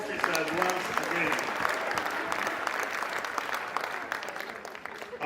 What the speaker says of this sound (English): Can we clap for these officers once again?